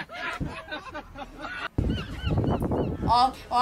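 Seagulls calling in a series of harsh, honking squawks, loud and near, with a brief break before more overlapping cries.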